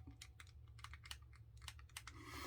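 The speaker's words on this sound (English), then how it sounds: "you can hear it clicking a little bit as it's compressed into the skin" Quick, light mechanical clicks in an irregular run from the spring of a Yaqi V3 Final Cut adjustable razor compressing against skin, close and faint, with a low hum underneath.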